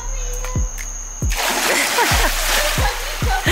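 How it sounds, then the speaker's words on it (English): Someone jumps into a swimming pool at the deep end, giving a sharp splash followed by continuing churning and sloshing water, with a few low thumps before and during. "So she gonna jump in at the deep end, swim over here, and then swim back."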